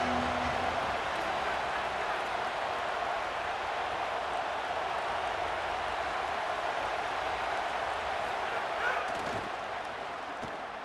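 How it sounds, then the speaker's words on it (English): Loud football stadium crowd roaring steadily as a drive begins from the 25-yard line, a dense continuous wash of cheering with no breaks, staying at a constant high level throughout. "This crowd ready to make its presence known."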